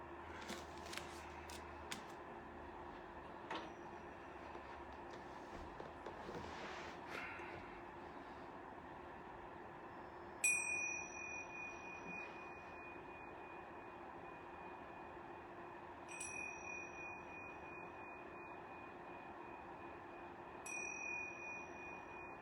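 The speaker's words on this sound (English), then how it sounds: "I'm going to ring these yoga bells" Yoga bells are struck three times, evenly spaced: each strike rings out as a clear metallic tone that slowly fades. The strikes sound faint against a steady low background rumble.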